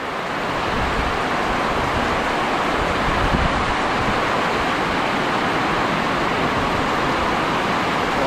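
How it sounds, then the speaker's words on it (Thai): Steady, dense hiss of rain falling, constant and fairly loud throughout with no voices or distinct events. "บรรยากาศฝนตกแห้งครับ"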